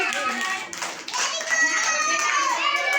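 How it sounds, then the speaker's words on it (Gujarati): Young children clapping their hands together in a classroom activity, a quick flurry of overlapping claps mixed with children's voices and chatter. "તાળી વગાડો તાળી વગાડો"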